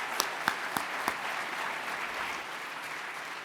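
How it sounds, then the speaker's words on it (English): A crowd of attendees at a 2015 Republican Jewish Coalition presidential candidates forum breaks into dense, sustained applause, opening with a few sharp individual claps before settling into an even wash of clapping. "Big round of applause for Senator Graham."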